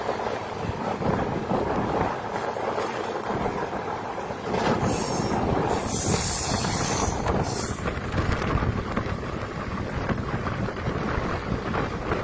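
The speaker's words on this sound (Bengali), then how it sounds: "এই মুহূর্তে বারসই কার্ভ আমরা পার করছি শিয়ালদহ জলপাইগুড়ি রোড হামসাফার এক্সপ্রেস থেকে।" Sealdah–Jalpaiguri Road Humsafar Express, hauled by a WP7 locomotive, rounding the Barsoi curve, heard from on board as a continuous loud rumble of wheels and carriages with heavy wind buffeting and occasional high squeal.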